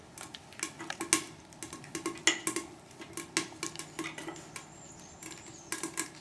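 Twigs dropped one after another down the metal chimney of a Kelly kettle, giving a run of sharp, close wooden clatters and light metallic clinks in an irregular rhythm.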